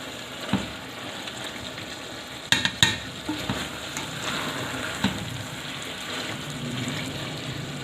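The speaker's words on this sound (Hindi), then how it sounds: "अब इसमें मैं डाल रही हूँ जी गरम मसाला। मिक्स कर लेते हैं।" Garam masala being stirred into kachnar chicken in a pan, a steady sizzle with a few sharp clinks of a spoon against the pot, and a soft scrape of mixing running throughout.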